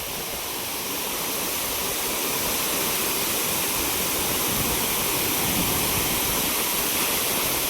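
A loud, continuous roar of falling water at Ranpat waterfall in Ukshi, Konkan, dense and steady, crashing down without pause.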